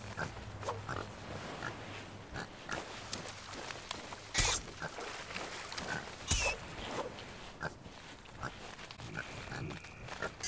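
Pigs on an island in Sea of Thieves grunt and oink repeatedly at close range over a low ambient bed, joined by a couple of sharp louder snorts and faint footsteps.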